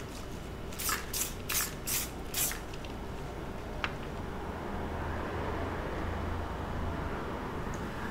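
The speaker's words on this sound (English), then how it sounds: "I'm barely, like, spraying. I'm doing, like, a light mist." Five quick, hissing spritzes of a spray bottle in a fast rhythm, followed by a steady low background rumble.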